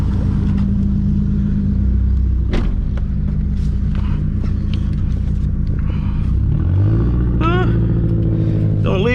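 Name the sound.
loud Toyota Supra MKIV engine revving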